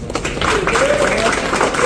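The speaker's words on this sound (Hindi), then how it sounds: "तो शायद हम अपने लिए तो एक बार ताली बनती है" Brief applause from a group of motorcyclists gathered for a Sunday breakfast ride, a soft, diffuse patter of clapping with a voice sounding over it.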